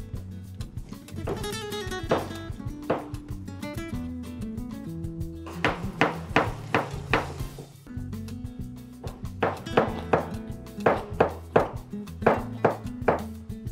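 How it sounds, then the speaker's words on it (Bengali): A knife chops salad vegetables for a biryani meal in a home kitchen, giving quick bursts of sharp cuts in clusters, close and fairly loud over a steady tonal background. "আমি তোমাকে সালাদ কাটাতে হেল্প করতে পারি"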